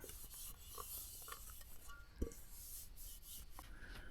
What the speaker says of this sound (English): Thankfully I have this alcohol wipe, which is gonna clean it up real nice.